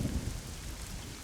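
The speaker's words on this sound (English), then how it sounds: "The rain goes sploosh." Rain splashing in the video game Eleusis, a steady, soft hiss of falling water with a low rumbling undertone, continuous and fairly faint, with no voices.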